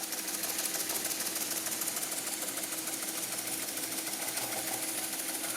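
An Empire #90 toy steam engine with a clogged sightglass runs slowly but steadily, giving a continuous close mechanical chuffing and hiss with a fine rhythmic pulse and no voices.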